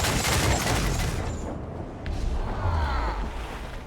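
Ship cannons fire in Assassin's Creed IV Black Flag naval combat: a dense volley of heavy booms and rumbling blasts opens loud, fades, then a second round of deep thuds rolls in, with crackling debris throughout.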